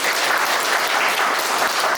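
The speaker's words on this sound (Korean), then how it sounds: "이 시간까지 잘 마무리한 저희 친구들 다시 한번 박수 부탁드리겠습니다" Steady, dense applause from a concert audience after a classical composition recital, filling the room evenly for a couple of seconds, with no voices standing out.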